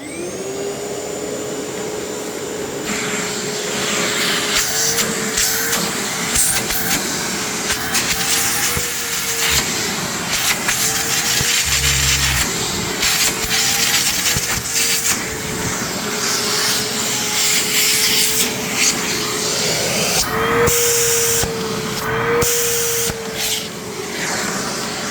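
A Panasonic MC-V7398 upright vacuum cleaner runs loud and close with a steady motor whine and roaring airflow, shifting slightly in pitch as it moves, with brief clunks and rattles along the way.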